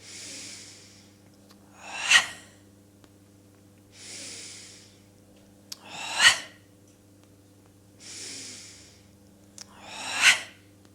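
Deep, rhythmic breathing during a Pilates deep core exercise: three slow cycles of soft, airy inhales, each followed by a sharper, louder exhale burst, evenly spaced about every four seconds with a quiet background hum.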